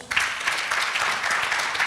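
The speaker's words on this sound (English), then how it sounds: "Can you please again give her a big round of applause?" A room full of people at a university entrepreneurship competition claps loudly and continuously, a dense burst of applause that holds steady for a couple of seconds.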